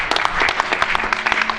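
An audience at a California public hearing in Salinas gives loud, close applause, dense clapping with some sharper individual claps standing out over its short span.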